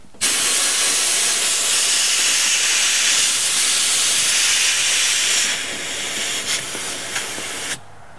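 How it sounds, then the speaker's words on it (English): Compressed air hose spraying along a car windshield to check for a leak, a loud continuous hiss that holds for about seven seconds, dips slightly near the end, then cuts off. "take your air hose,"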